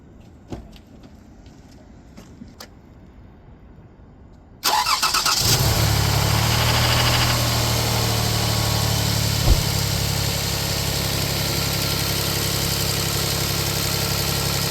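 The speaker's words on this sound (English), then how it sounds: "So right now I'm gonna start the vehicle." A car engine cranks and catches, then settles into a steady, loud idle that continues for about ten seconds, with a few faint clicks beforehand.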